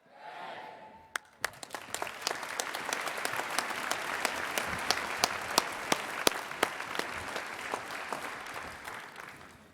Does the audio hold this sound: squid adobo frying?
no